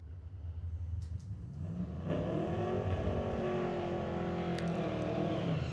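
Drag race cars at a Friday night street legal drag event at Mission Raceway Park roar past, the engine note building loud and steady with a sustained high whine.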